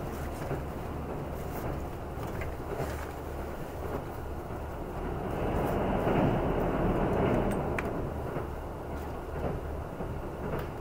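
A KiHa 85 series diesel train on a special rapid service to Kumanoshi runs steadily, heard from inside the car as a continuous rumble with faint rail clicks, swelling slightly midway.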